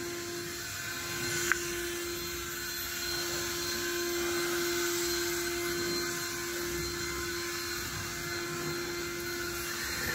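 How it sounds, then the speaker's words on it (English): A cordless leaf blower drones with a steady, high-pitched motor whine inside a 1962 Chevy Impala, running continuously nearby, with a brief click near the start. "leaf blower"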